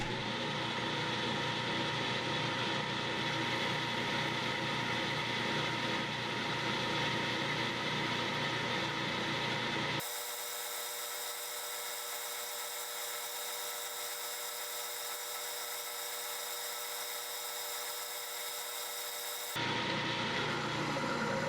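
Metal lathe tool cutting a steel part at a slowed feed rate, a continuous hissing scrape with a steady whine that shifts in tone partway through, alone without talk.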